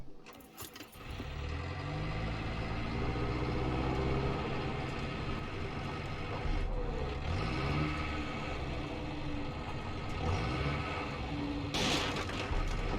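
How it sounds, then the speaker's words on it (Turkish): A tractor engine in the video game Far Cry 5 runs steadily with a low, continuous rumble and shifting pitch, close and fairly loud, with brief clatter at the start and near the end. "Biz bu traktöre binelim."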